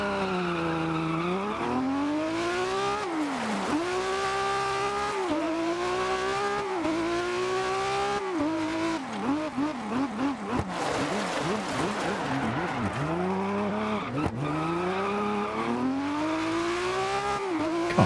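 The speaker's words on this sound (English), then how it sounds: "Can't believe they turned this into a rally car." A BMW rally car in a racing video game revs and surges through repeated rising and falling engine notes, with tire squeal and skidding mixed in under occasional talking.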